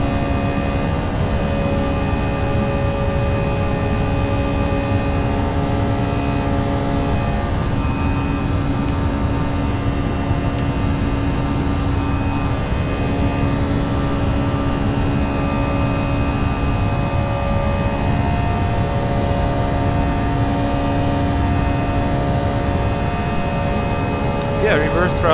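An airliner's jet engine in the X-Plane flight simulator drones steadily, its tone wavering as thrust is reduced, with a constant hum and no speech.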